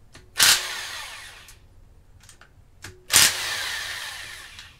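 Two loud bursts from a power tool spinning off oil pan bolts on a GM Ecotec engine block, each a sharp whirring rattle that fades out, with a few faint clicks and quieter gaps between them.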